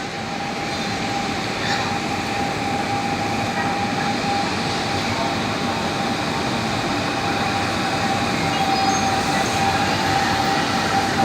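A train in Tokyo rumbles past overhead on an elevated line, a loud, continuous rolling roar with a faint steady whine that lasts the whole stretch.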